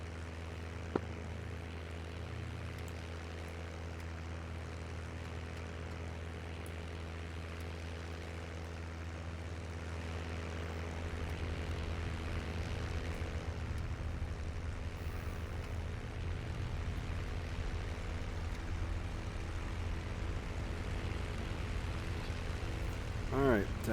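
Propeller aircraft engine in a VR flight game droning steadily at moderate volume and building slightly as the plane taxis, heard without speech.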